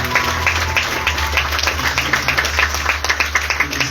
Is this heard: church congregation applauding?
yes